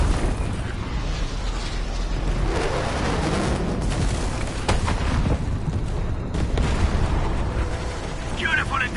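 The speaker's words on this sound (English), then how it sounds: "The UWST will fire at where you've marked." Video game UWST artillery strike on a marked position, a dense continuous rumble of booms and blasts filling the scene, with voices talking over the barrage.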